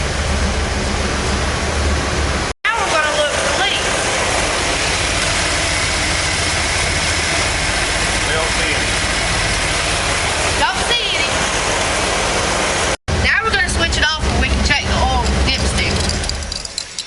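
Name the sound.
car engine idling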